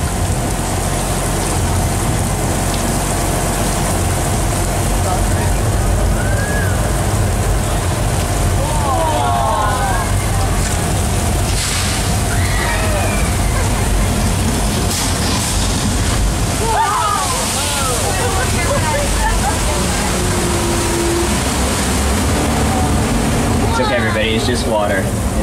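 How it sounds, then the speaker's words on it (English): Flash flood water effect on the Universal Studios Hollywood studio tour: loud, continuous rushing and splashing water filling the whole stretch, with faint voices and squeals over the roar. "What about this flash flood that I was talking about?"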